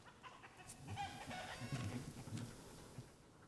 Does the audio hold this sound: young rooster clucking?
yes